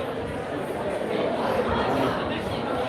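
Diffuse crowd murmur at a candidate's campaign speech at UNH in Durham, New Hampshire, a dense, steady wash of many voices close around, with talk mixed in.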